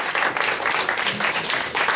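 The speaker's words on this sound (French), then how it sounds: "Vous pouvez applaudir, s'il vous plaît." Applause from an audience at a Lions Club meeting, a dense steady wash of many hands clapping close by, sustained at even strength throughout with no talk over it.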